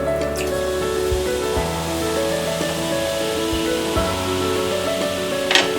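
Water poured on a hot dosa griddle sizzles with a crackling, hissing spray, steady throughout with a few sharper pops.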